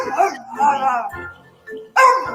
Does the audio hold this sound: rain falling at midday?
no